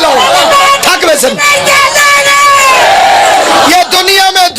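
A large crowd at a Shia majlis shouts religious slogans in unison, loud sustained voiced chanting that fills the whole stretch with only brief dips between calls.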